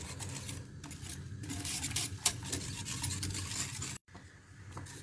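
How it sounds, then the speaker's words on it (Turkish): Cocoa pudding mixture is whisked and stirred in a pot as it cooks. A continuous scraping, rattling stir runs throughout at close range, with a brief pause near the end. "Üzerine boşaltıp çırpalım ve koyulaşana kadar karıştırarak pişirelim."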